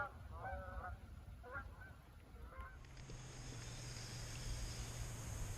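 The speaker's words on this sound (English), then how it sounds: "spooked a whole bunch of Canada geese" Canada geese, spooked from a rice bed on Crotch Lake, honk in a quick, distant burst of calls, fading out as a boat motor's low drone takes over under faint wind.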